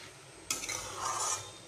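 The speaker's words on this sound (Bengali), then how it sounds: "মাছ ও লাউগুলোকে বেশ ভালোভাবে আমি কষিয়ে নিচ্ছি।" Small fish and bottle gourd sautéing in a pan, quiet at first, then a sudden clink of a spoon and a short burst of stirring and sizzling, close and brief.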